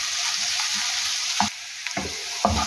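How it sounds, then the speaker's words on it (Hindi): Onions sizzle steadily in a hot pan of oil, a dense continuous frying hiss broken by a few soft scraping clicks of stirring. "यहाँ प्याज हो गए हैं लाइट से ब्राउन"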